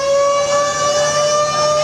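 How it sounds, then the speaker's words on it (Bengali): A launch siren sounds as passenger ferries pull away from Sadarghat launch terminal amid Eid holiday crowds, a loud, steady, unbroken horn tone holding for the whole stretch with no voices. "সাইরেন বাজিয়ে সদরঘাট লঞ্চ টার্মিনাল থেকে ছেড়ে যায় একের পর এক লঞ্চ"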